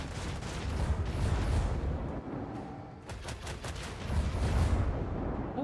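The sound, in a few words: explosion right beside the ship in video game Warhammer 40k: Rogue Trader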